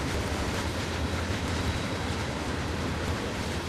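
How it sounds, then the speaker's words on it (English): A very long train rolls past in Montgomery, Alabama, producing a steady, dense, even rumble that holds at a moderate distance with no pauses and no voices. "So apparently really long trains come through Montgomery"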